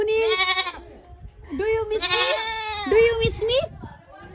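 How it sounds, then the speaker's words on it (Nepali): Several loud, wavering goat bleats close by, one after another with short pauses, the last few overlapping in a rough cluster. "हेर्नु बाख्रा कराएको हेर्नु है"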